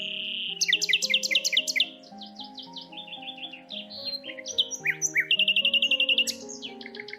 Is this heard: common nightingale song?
yes